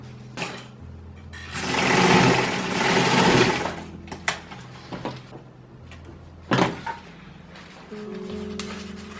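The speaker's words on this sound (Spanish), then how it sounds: "Vas a coser las dos partes del forro, derecho con derecho." A sewing machine stitching two waterproof lining pieces of a round handbag right side to right side, a loud close whirring run followed by a few mechanical clicks and knocks of fabric handling.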